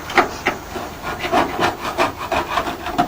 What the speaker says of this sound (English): is still scraping the wing.